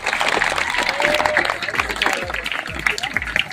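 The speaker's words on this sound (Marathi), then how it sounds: "आपण जोरदार टाळ्या" An audience claps loudly for teachers at a school science laboratory inauguration in a village, the ovation running throughout under a man's speech and some crowd noise.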